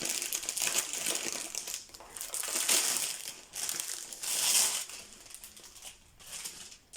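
Crinkly plastic packaging around a canvas rustles and crumples as it is torn open, with close, continuous crackling that swells and fades in waves.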